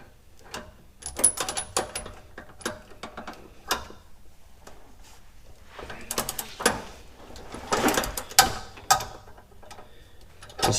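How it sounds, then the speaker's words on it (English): A 15mm wrench working a sway bar link nut on a 2009 GMC Yukon 2WD, irregular ratcheting clicks and metallic ticks in uneven bursts, close-up, with brief pauses between efforts and no talking. "15mm wrench here. Let's see if we can get this thing off."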